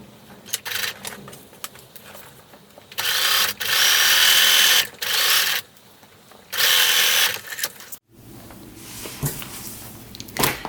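A sewing machine stitches a straight line across a dragon costume tail, joining it over the ribbing in several bursts of steady whirring, with quieter handling sounds between runs and no talk.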